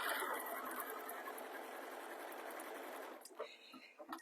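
A sewing machine whirs steadily in one fast continuous run while stitching a fleece neck warmer, close up, then stops and leaves a few soft handling clicks.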